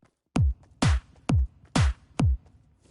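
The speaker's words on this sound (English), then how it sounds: "it's gonna sound something like this for the kick drum and snare" Kick drum and snare sounds from Fortnite music blocks alternate in a slow, even pattern of five isolated hits, punchy and close with silence between them.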